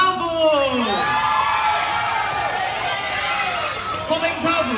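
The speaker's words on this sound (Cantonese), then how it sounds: "掌聲歡迎 Popping Tofu" A crowd at a Hong Kong Disneyland dance-off finale cheers, whoops and applauds continuously and loudly, with an announcer's voice over the noise.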